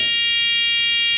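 A battery-powered buzzer sits still and sounds one unbroken, constant-pitch electronic tone, loud and close, alone throughout.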